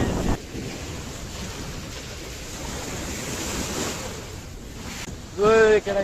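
Sea waves roll and wash continuously at Mahboula beach in Kuwait, a steady surf roar with some wind across the microphone, and a voice cuts in briefly at the end.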